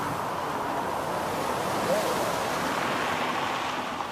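Ocean surf during a spring tide makes a continuous, loud roar of crashing waves mixed with wind buffeting the microphone.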